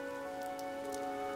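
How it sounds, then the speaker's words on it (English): Rain falling in the video game Fire Emblem Three Houses, a soft, continuous patter that sits under sustained tonal music throughout. "The rain is really coming down now."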